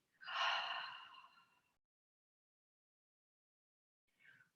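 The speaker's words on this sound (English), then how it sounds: "Open the mouth and exhale." One deep breath let out through an open mouth at the end of a yoga practice, a breathy exhale about a second long that fades away, followed after a pause by a brief faint breath.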